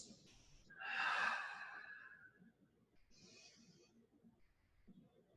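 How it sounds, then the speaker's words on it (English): Deep breaths taken during a guided breathing exercise: one long, loud breath that swells and fades, followed by a softer breath with a quiet airy hiss and low background murmur. "2 more big breaths."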